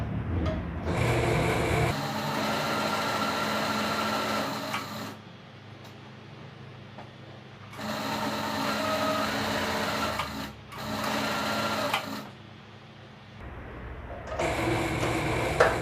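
A sewing machine stitches a dress seam with a Japanese-style sleeve, running in several bursts of close, steady rapid chatter separated by brief quieter pauses where the fabric is repositioned, with no talking.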